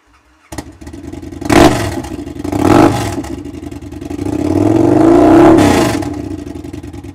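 A 2009 Victory Kingpin motorcycle with an aftermarket exhaust starts and revs hard three times, each throaty surge rising and falling, the last one long and sustained, loud and near.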